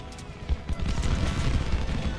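Massed musket volleys and gunfire in a Civil War battle game, a continuous rumbling crackle of shots with low booming weight, dense and sustained.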